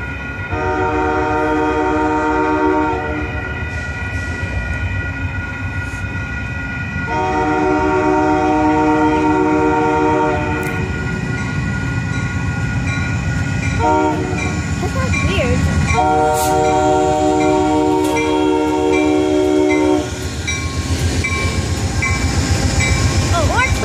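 An Amtrak passenger train passes at a Chicago rail junction, sounding three long, loud chord horn blasts separated by pauses, with the rumble of rolling cars beneath and a brief voice.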